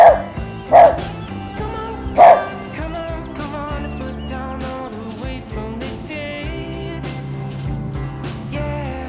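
Dogs barking on a Virginia countryside homestead as they chase deer away, a few sharp barks early, then fading under a steady wash of background music.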